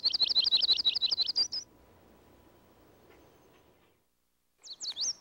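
A yellow-rumped warbler sings during migration at Cold Spring Park, a quick bright trill of rapid repeated notes, then a pause with faint background, then a short second burst of the song near the end.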